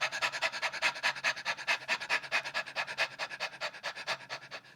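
A person imitates a dog panting with the voice as a vocal exercise, giving a quick, steady run of breathy in-out pants that stays close and even throughout with no words spoken.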